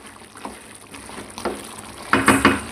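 A spatula stirs chicken curry in a cooking pan, making several brief scraping and shuffling strokes that grow louder and closer together toward the end, over a soft background hiss.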